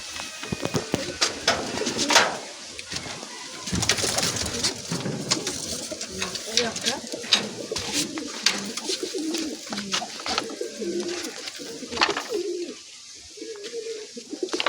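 Loft pigeons cooing steadily, layered low coos from several birds close by, with sharp clicks and wing or cage knocks scattered through and a faint voice briefly in the background.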